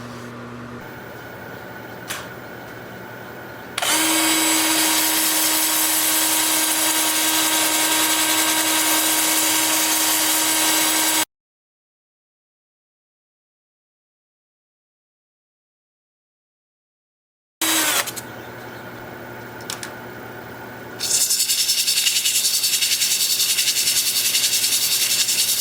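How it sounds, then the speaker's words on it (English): Wood lathe spinning a natural edge alder bowl while it is sanded, a steady broadband hiss and whir that runs continuously, stops for a silent gap, then resumes with a brighter rasp. "I think we're ready to sand."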